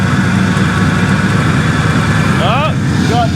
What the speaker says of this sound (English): Got a little exhaust leak somewhere here.